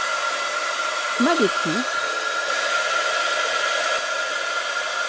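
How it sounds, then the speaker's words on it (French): A hot air gun blows steadily on thermoformable foam held on a skewer while crafting miniature flowers, a loud constant broadband whoosh throughout, with a brief spoken phrase near the start. "J'utilise mon pistolet à air chaud."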